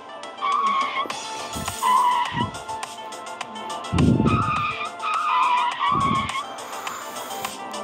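Tires squeal and skid in the video game Retro Drift, with long, repeated screeches over a steady engine note and several low thumps between the slides.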